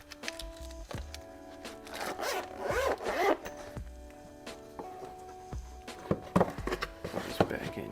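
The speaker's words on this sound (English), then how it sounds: "Zip this up." Several quick zipper pulls close a bag or pouch of mechanic tools, each a short rasping zip, with soft rustling and handling noises between them, heard up close.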